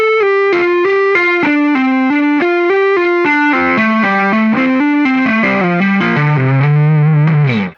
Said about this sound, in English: creating that legato sound